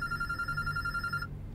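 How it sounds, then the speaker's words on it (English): A telephone rings inside the video game Road 96, a steady electronic bell tone that holds for just over a second, then cuts off, leaving low background hum. "The phone's ringing."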